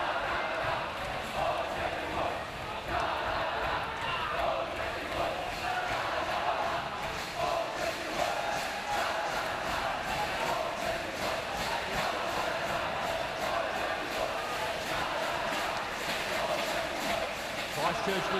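Crowd of school spectators cheering steadily at a public schools swimming carnival, a dense continuous roar of voices throughout with no pauses.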